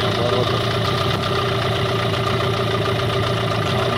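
A Promax 9.9 outboard boat motor idles at about 800 rpm, a steady, close, unbroken drone with a low rumble and no voices.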